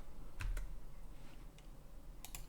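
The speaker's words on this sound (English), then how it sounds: "we're going to hit Q on the keyboard" Faint clicks of computer keyboard keys being pressed, two or three quick taps near the start and another pair near the end, set against a quiet room hum.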